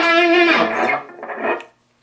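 Distorted electric guitar through a Mosky Black Rat hard-clipping distortion pedal, with a harsh, clipped edge, plays a sustained note, then a shorter phrase, before cutting to silence.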